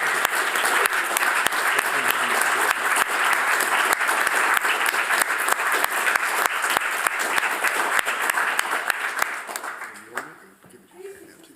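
Sustained clapping from the audience at a PhD defence, many hands with some sharp individual claps standing out, steady for about ten seconds before tapering off, with a voice speaking briefly as it fades.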